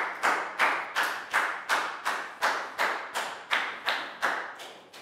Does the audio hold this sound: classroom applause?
yes